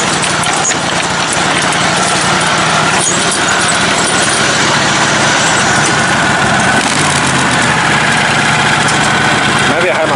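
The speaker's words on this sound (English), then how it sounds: "I wonder why it's backfiring" Off-road truck engine, a modified vehicle called the Snatch Tractor, runs and revs under dense broadband roar, with talk mixed in throughout and a few sharp pops near the end.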